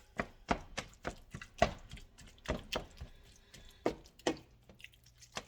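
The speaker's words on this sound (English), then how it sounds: "So I'll go ahead and kind of like crush these a little bit together" Wet burrito ingredients are crushed together in a bowl, producing a run of soft, irregular squishy thuds and knocks, close and fairly quiet, with brief pauses between strokes and no talking.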